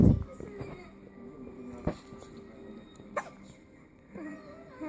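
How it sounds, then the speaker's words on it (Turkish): A baby hiccups in a few small, soft bursts spread across a quiet room, with faint background sounds between them. "Yayama hıçkırık durmadan tutuyor kuzumu ya."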